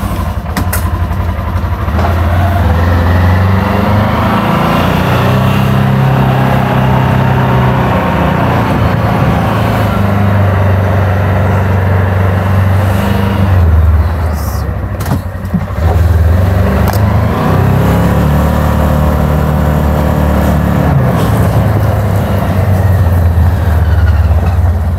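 A farm vehicle drives up to a storage shed on a farm, its engine a loud steady close drone with slight shifts in pitch, running throughout with no talking.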